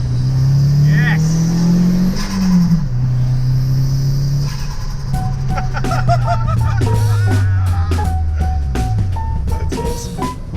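A Toyota Corolla engine fitted with a cheap eBay turbo runs in a car, its drone rising and falling as it revs and accelerates, loud and close, while people talk over it.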